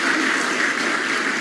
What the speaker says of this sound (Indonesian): Tepuk tangan buat Tuhan Yesus, Bapak Ibu.